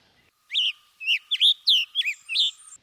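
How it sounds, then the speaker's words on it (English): Songbirds such as a red-eyed vireo, black-and-white warbler, least flycatcher and scarlet tanager sing in short, clear, high chirped phrases, about half a dozen notes in quick succession against a quiet, empty background. "Red-eyed vireo, black and white warbler, least flycatcher, scarlet tanager."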